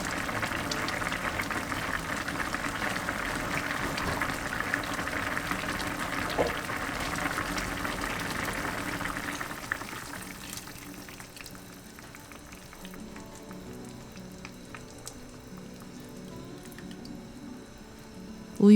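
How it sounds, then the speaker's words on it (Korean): Soup bubbles and simmers in a covered pot, a steady hissing burble that softens partway through and continues quietly. "뚜껑을 덮고 5분 정도 팔팔 끓여준 뒤에"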